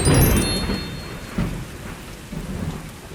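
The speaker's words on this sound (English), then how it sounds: "It was a dark and stormy night." A thunderstorm sends loud rolling thunder over steady falling rain, with a strong rumble at the start and fresh bursts of thunder about halfway through and near the end.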